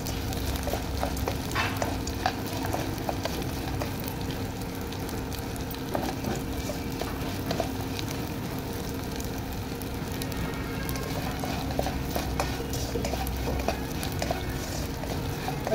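Edible gum (gond) frying in oil for gond halwa, a steady soft crackling sizzle with faint stirring scrapes, continuous and fairly quiet with no voices.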